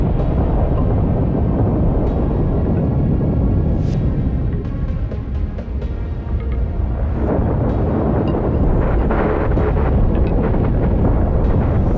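A starship is blown apart in The Last Starship, with a loud, sustained roar of rumbling explosion filling the whole stretch and scattered crackles and bursts over the continuous low thunder.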